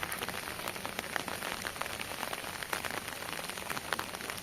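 Heavy rain pours onto a village road in Odisha, a dense, steady hiss of drops drumming the ground close by, with no voices.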